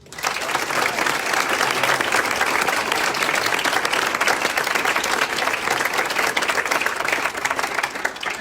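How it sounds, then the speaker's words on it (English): Sustained, dense audience applause at an awards ceremony honouring young achievers, steady and loud throughout with crowd-wide clapping and no break. "another huge round of applause for all of our"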